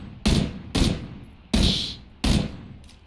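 Four loud, close gunshots from PUBG ring out in a slow, even sequence, each sharp crack trailing off in a short echo, with no talk over them.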